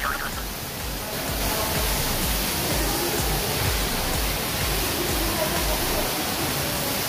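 An indoor fountain at Sta Lucia East Mall rushes steadily with loud, even splashing water noise that fills the whole stretch, and a voice is faintly heard over it.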